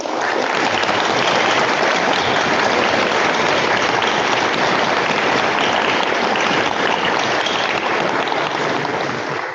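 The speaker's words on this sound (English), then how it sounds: "Can we give a round of applause?" Dense, sustained applause from a graduation audience at St. Anthony's fills the hall, loud and steady throughout with no break and no talking over it.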